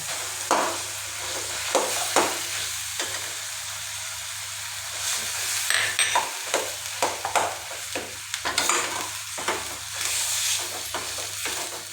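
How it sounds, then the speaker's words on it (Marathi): Cooked bhagar being stirred into softened, mashed bananas in a pan for a sweet fasting sheera, with repeated scraping spoon strokes and a soft sizzle under steady background hum, no talking. "याच्यामध्ये हे शिजवलेले भगर टाकून"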